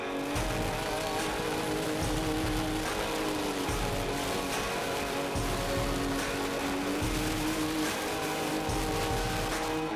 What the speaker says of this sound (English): a torrential downpour began out of the blue